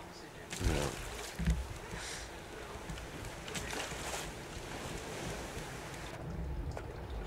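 Ocean waves wash steadily around a floating raft in the survival game Raft, a constant windy surf roar with a couple of heavier splashes near the start.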